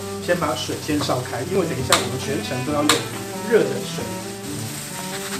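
Diced taro deep-frying in hot oil sizzles and crackles steadily, with occasional clinks of a metal strainer, while a person talks over the cooking.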